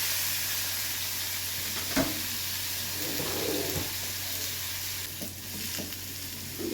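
Corn kernels fry in butter over a low flame with a steady, close sizzle. A spoon stirs them now and then with soft scrapes, and faint bird coos sound in the background.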